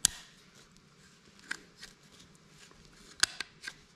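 Sheet metal being cut by hand during work on an old car project, with a few sharp snipping clicks spaced across a few seconds against a quiet background.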